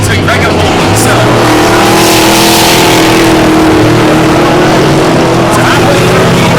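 Eight-cylinder dirt track race cars roar loudly around the track in a sustained engine drone with shifting revving tones, under a race announcer's voice.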